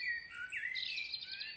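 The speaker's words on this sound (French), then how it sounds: "Au gré des chants d'oiseaux," Birds sing softly in a calm outdoor setting, one thin warbling phrase sliding up and down over a faint low background hum, brief and somewhat distant.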